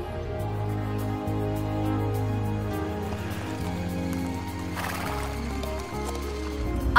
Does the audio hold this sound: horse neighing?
yes